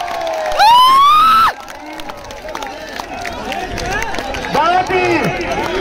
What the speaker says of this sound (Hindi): दोनों टीमों के लिए ताली बजा दे जनता